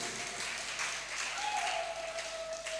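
A church congregation claps for Jesus during a sermon, giving a soft, steady patter of applause heard from a distance, with a faint sustained tone running underneath.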